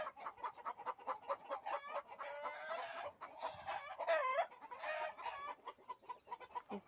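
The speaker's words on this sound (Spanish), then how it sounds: "Ahí anda otra gallina." Hens at a rural farmyard in the Chihuahua sierra cluck in a steady rhythm, with louder drawn-out calls and a short crow-like cry in the middle, fairly close and without talk.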